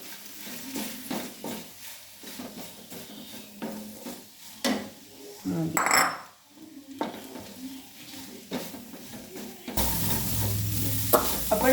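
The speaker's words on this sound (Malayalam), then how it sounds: "ഇത് ഇടയ്ക്കിടയ്ക്ക് നമ്മൾ തുറന്ന് ഇളക്കി കൊടുക്കണം, ഇല്ലെങ്കിൽ അത് മൂട്ടിൽ പിടിക്കേ." Ivy gourd thoran is stirred in a cooking pan, a spoon scraping and clacking against the pan in repeated strokes over a soft sizzle, close and fairly loud.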